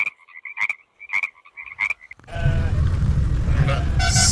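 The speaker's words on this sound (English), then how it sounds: "frog," Frog croaking in a short series of rhythmic calls, then abruptly replaced by a loud, broadband burst of noise that fills the rest of the clip.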